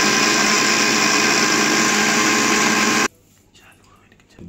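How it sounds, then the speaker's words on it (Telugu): A mixer grinder whirs loudly and steadily while blending bottle gourd juice, running for about three seconds before cutting off abruptly into near silence with faint rustling. "ఈ విధంగా మిక్సీలో వేసుకొని మామూలుగా"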